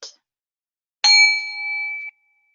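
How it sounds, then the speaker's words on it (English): A single meditation bell rings out once with a clear, bright strike and then a sustained ringing tone that fades over about a second, heard alone in silence after a tiny earlier tap. "I'll go ahead and ring the bell to start."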